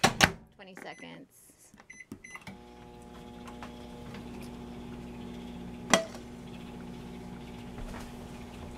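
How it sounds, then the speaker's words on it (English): A microwave oven softening tortillas for about 20 seconds, a steady low hum with faint tonal bands running under a few seconds of speech and kitchen clatter, with one sharp click partway through. "I do put them in the microwave for about 20 seconds."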